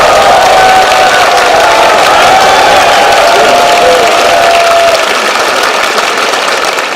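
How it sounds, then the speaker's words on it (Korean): Crowd applause and cheering fill a Korean party political rally hall, loud and continuous throughout, with a steady broad wash of clapping and voices that eases slightly toward the end. "박수 한번 주십시오."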